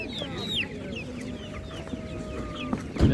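A young hen of a Spanish meat-and-egg breed clucks at a livestock market, short clucks set against busy background chatter and farmyard noise.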